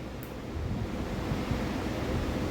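Raw beetroot, bottle gourd and tomato blended with water in a mixer grinder at home, a steady loud whirring churn running throughout without pause or speech.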